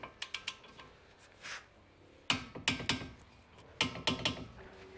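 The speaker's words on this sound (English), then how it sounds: "The information I have says these are torqued between 58 and 72 foot-pounds." Lug nuts on a 2020-2024 Kia Soul being tightened with a torque wrench during a front brake job: quiet bursts of rapid ratcheting clicks, two clustered groups of sharp metallic ticks with pauses between, close and without speech.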